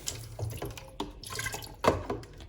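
Water runs from a tap and splashes into a cooking pot while carrot oil is being prepared, a broken splashing and trickling stream with brief louder gushes, close by and unaccompanied.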